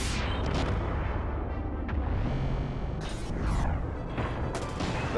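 Jesse's Launcher attack in the Xenogears video game fires a run of booming, gunfire-like blasts with metallic mechanical clanks between them, loud and unaccompanied by talk.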